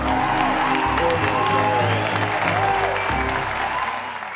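A crowd on a television entertainment show applauds a guest, loud and continuous, with a faint tonal whine in the background and a slight fade near the end.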